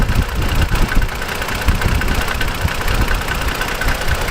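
A rapid, steady ticking clatter from direct injectors rides over an idling 2021 Toyota Tacoma SR engine, close up and constant throughout.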